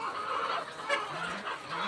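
Many chickens in a poultry house cluck and squawk together in a dense, continuous chorus, fairly close, with no talking.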